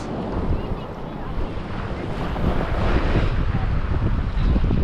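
Strong wind buffets the microphone with a steady roar at Maho Beach, surf washing underneath, loud and continuous throughout.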